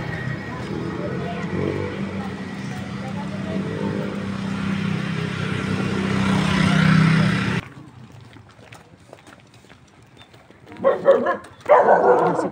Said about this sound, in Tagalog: May aso pala doon